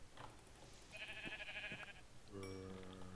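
Sheep in a farming video game bleat twice, clear and close: a wavering bleat followed by a longer, steadier one, with no talk over them.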